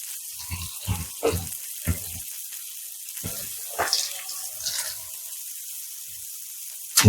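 Butter melts and sizzles in a hot pan beside steaks, a thin steady crackle broken by several louder spattering bursts, with no one talking.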